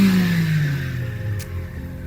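A 2012 Chery S18 car engine, after a cylinder head repair, revs up and then winds down, its deep hum falling steadily in pitch; close and fairly loud, with no one talking.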